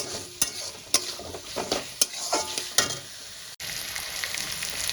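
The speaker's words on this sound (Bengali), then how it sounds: "আর মশলাগুলো দিয়ে আমি একবারে কষাতে থাকবো।" Tomatoes fry in a pan with salt, turmeric and other spices, making a steady close sizzle punctuated by sharp spatula clacks and scraping stirs against the pan, with no talking.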